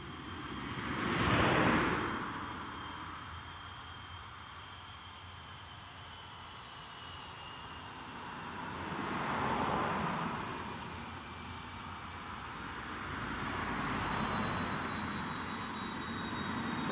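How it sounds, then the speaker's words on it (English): A five-year-old Delta Airlines Airbus A330 taxiing out at Dublin Airport, bound for New York: a steady distant jet engine whine and rumble that swells in three broad waves, with no talk. "taxi out is also bound for New York. And this is the Delta Airlines A330, 5-year-old aircraft."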